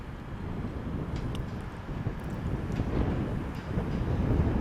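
Northern Class 331 electric unit 331103 arriving at Manchester Piccadilly: a steady low rumble and rolling hiss of the train, slowly building in loudness over a few seconds, with faint high squeals from the wheels.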